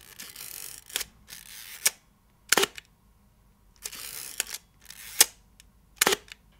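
A Pentacon medium format film camera fires its shutter repeatedly, crisp mechanical clicks with a short whirring wind before several, about six releases spaced roughly a second apart, close and isolated in a quiet room.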